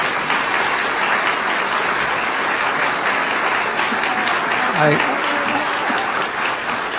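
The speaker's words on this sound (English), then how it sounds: "how about a round of applause for our 2 candidates?" Sustained applause from a large audience at a political debate, a dense steady wash of clapping that holds at an even level throughout.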